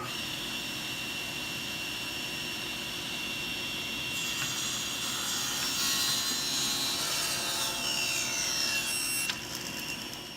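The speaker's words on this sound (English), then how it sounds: "I'll trim it on the table saw." A table saw whines steadily, then bites into a walnut board around the midpoint, its cutting noise louder and rougher until it stops near the end.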